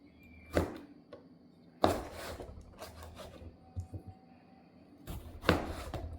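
A knife chops ingredients for homemade pickle (achar). Several sharp, close chops land at irregular intervals, with softer scraping and rubbing sounds between them and no talking.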